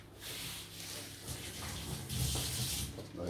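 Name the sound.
water running from a tap, rinsing hands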